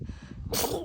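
A single sharp sneeze from a person indoors bursts out after a brief quiet intake of breath, close and sudden.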